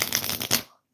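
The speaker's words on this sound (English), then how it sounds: "I'm shuffling the cards." Tarot cards shuffled close by in a quick riffling burst of papery flutters for just over half a second, then silence.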